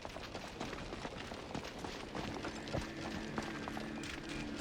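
A character runs on foot in Assassin's Creed Shadows, quick rhythmic footfalls patter along at a fairly faint level against soft ambient game sound.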